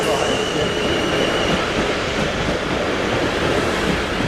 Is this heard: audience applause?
no